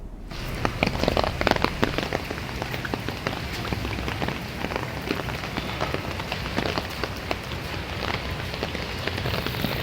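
Heavy rain pours down steadily, a dense and constant hiss of drops hitting surfaces that stays loud and unbroken throughout.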